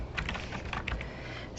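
A short, quiet burst of computer keyboard typing as a terminal command is entered: a quick run of light, close key clicks with a brief pause.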